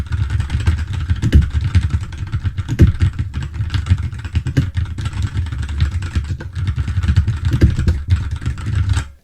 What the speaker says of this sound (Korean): 이렇게 키보드 소리가 들어간다.